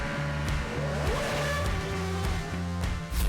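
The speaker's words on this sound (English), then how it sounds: "Before the 53-year-old delivered some donuts for the crowd." A modern Formula 1 car driven by 53-year-old David Coulthard spins donuts for a crowd, the engine revving hard and pulsing up and down in repeated surges with tire squeal mixed in, loud and close.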